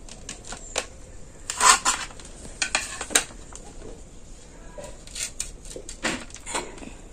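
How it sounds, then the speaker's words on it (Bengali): Knife cutting baked radish pitha into pieces, a series of sharp irregular clicks and taps of the blade against a plate or board, close and fairly quiet, with no talking. "এবার আমি এর থেকে পিস পিস করে কেটে নেব।"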